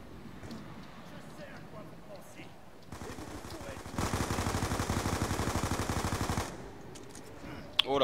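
Rapid automatic gunfire rattles in a zombie video game, a sustained burst of closely spaced shots lasting a few seconds, loud and dense, with quieter game ambience and a lone sharp shot around it.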